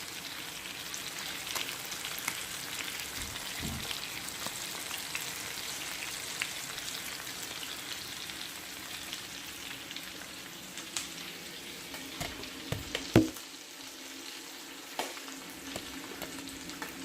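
Hilsa fish frying in oil over a low flame, a steady soft crackling sizzle throughout, with a few louder pops and clatters near the end as the fish is turned, no voices.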